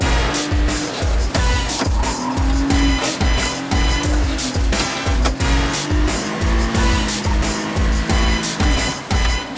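A Daihatsu Midget with an open differential struggles for grip, its engine droning and straining while the tires spin and scrabble, with a loud, steady, rhythmic thumping running through the whole stretch.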